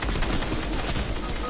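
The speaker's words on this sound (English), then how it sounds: "Getting shot at with a starter" A starter weapon fires in a video game as a dense, continuous burst of rapid gunshots, loud and close throughout.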